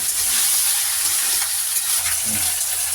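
Chopped tomato with salt and turmeric is cooked and stirred in a pan, giving a steady, close sizzle with a constant bright hiss and faint scraping underneath.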